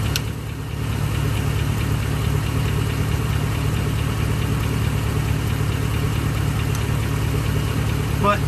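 A truck's engine idles steadily up close, a constant low rumbling drone with a faint rhythmic knock, heard from underneath the vehicle while an O2 sensor is being swapped.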